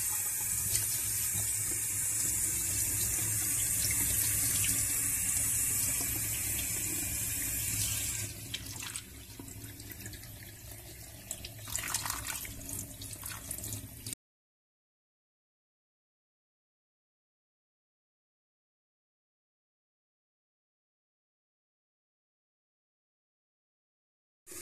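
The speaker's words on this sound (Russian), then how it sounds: "а можно промыть прямо под краном" Water runs steadily from a kitchen tap while fresh sea urchin roe is rinsed under it, a continuous splashing hiss that changes and turns patchier partway through before cutting to silence.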